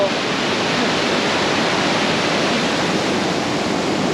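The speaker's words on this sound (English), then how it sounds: "we made it to the waterfall." A waterfall in Kings Canyon National Park rushes with a steady, dense roar that stays unchanged throughout, loud and close.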